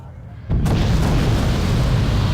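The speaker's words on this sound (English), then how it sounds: "Here comes our cloud of missiles, better than theirs." A missile volley in the real-time strategy game Wargame: Red Dragon: after a quiet lead-in, a sudden loud roaring launch rushes in and holds as a dense, sustained rumble of rockets firing together.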